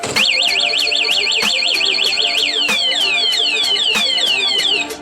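A loud Honda Click 125i motorcycle anti-theft alarm wails in a rapid warbling tone, then switches to repeated descending chirps, with regular clicking pulses throughout.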